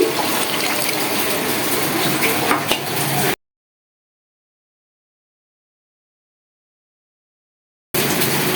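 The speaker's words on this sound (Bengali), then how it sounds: "এর মধ্যে পরিমাণ মতো পানি দিব আর কি, প্রয়োজন মতো পানি দিয়ে দিলাম।" Water is poured into a pot of sautéed rice and lentils for vegetable khichuri, making a steady rushing splash for about three seconds; then it cuts to silence and resumes briefly at the end.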